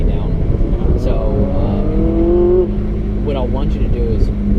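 A Ferrari accelerates on a race track, its engine pitch rising in repeated climbs, heard up close under people talking.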